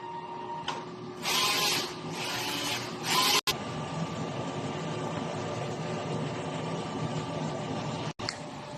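A DTF printer runs a nozzle test: a steady mechanical whir with bursts of higher carriage and print-head noise early on, two sharp clicks partway through, and no talking.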